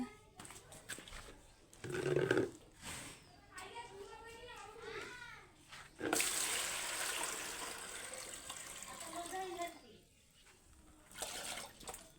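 Water splashes and pours in bursts close by as a goat is washed, with children's voices and talking mixed in throughout.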